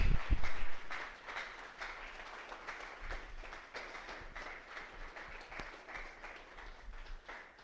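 A church congregation claps during a sermon, a brisk patter of many hands at moderate distance, fairly quiet and steady over a low room murmur.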